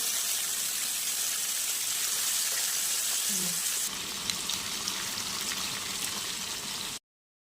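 Fish fry in hot oil with a dense, steady sizzle and crackle that continues throughout, close and fairly loud, easing slightly partway through before cutting off abruptly.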